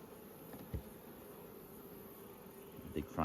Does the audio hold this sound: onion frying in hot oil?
no